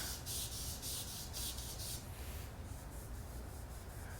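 Wet sanding the clear coat on a Honda S2000 by hand with 2500 grit sandpaper, a soft rhythmic scrubbing of repeated back-and-forth strokes, close and quiet, with no talk.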